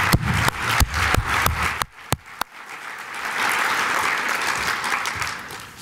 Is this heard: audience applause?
yes